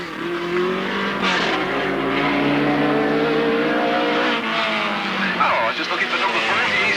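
Race cars circle a stock car track at Alwalton, a continuous droning engine roar that rises and falls as they pass, under steady commentary from a public-address announcer.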